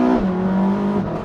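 Porsche 918 Spyder accelerating hard: a steady, loud engine drone with a strong low tone holding nearly level for about a second, heard alone without voices.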